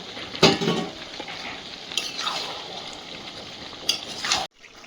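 Chicken sautéed in a pan on a gas stove, stirred with a spoon: steady soft sizzling broken by several scraping, clattering stirs, close by, ending in sudden quiet.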